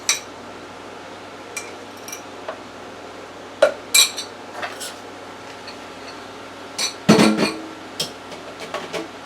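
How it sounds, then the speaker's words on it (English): Eggs for a strawberry cake batter being mixed in a bowl with a utensil, heard as sparse, sharp clinks and taps against the bowl spread out over quiet stretches, with one busier clatter near the end. "3 eggs. I'm just going to mix it a little bit first."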